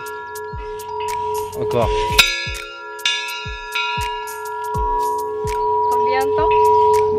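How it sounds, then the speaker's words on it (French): A love bell in Izu, Japan is struck repeatedly, each clang ringing out with a long metallic sustain that overlaps the next, while visitors talk nearby between strikes. "la cloche de l'amour, on va la faire sonner 3 fois"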